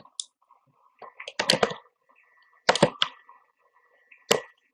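Sharp computer mouse clicks come in short clusters, close and crisp, with quiet gaps between them while working in Microsoft Access, and no speech.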